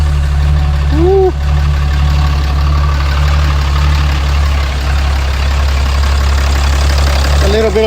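An engine idles steadily after a finished tune-up, a constant low rumble throughout with a slight shake. A voice lets out a couple of brief whoops over it near the start and end.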